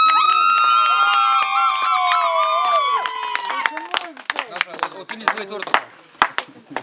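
Clapping and scattered cheers break out at a birthday celebration, following a stretch of singing or held vocal tones, then come as uneven, close claps and shouts that thin out toward the end.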